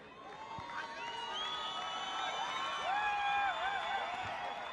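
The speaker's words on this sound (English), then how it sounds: "that raise their voices and applaud their team as they get their medals" A home stadium crowd cheers and applauds the SWD Eagles rugby team as they receive medals after the 2018 First Division Currie Cup final against the Valke. The roar builds steadily, with shrill whistles and whoops rising above it.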